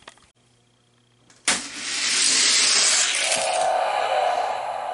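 Hot Wheels die-cast toy cars, a Mercury Cougar and a Ferrari, race down a drag track: a sudden start followed by a steady rushing roll of plastic wheels, close and loud, without speech.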